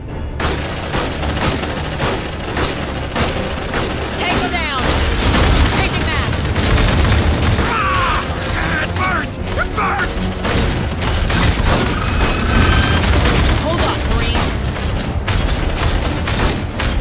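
Suppressive gunfire in the video game Aliens: Dark Descent: a loud, dense, continuous stream of automatic rifle fire and booms, with voices shouting over the combat.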